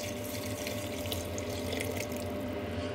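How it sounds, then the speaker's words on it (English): Stock is poured into a slow cooker while gumbo is being made, giving a steady, continuous splashing pour of liquid that stays close and even for the whole stretch, with no talking. "This is all going to get transferred to the slow cooker. We add the rest of the stock"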